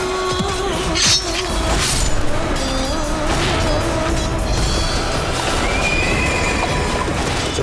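A horse neighs loudly amid a dense, noisy battle scene with the Mughal army, with hoof clatter and crashing in the background throughout.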